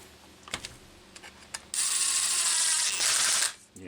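A ratcheting screwdriver cranks screws down on a Homelite XL Automatic Oiler chainsaw case. A few faint clicks come first, then a loud continuous buzzing ratchet runs close up for nearly two seconds and stops abruptly.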